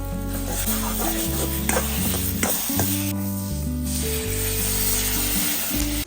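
Loud, continuous sizzling of spices tempered in hot oil over ground bhatwani, with a steady electronic hum and scraping stirs throughout.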